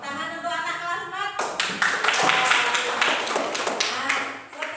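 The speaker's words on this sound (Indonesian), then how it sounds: "Tepuk tangan untuk anak kelas 4." Classroom applause for grade 4 children: after a brief moment of talk, a burst of dense clapping from many hands begins and continues steadily to the end.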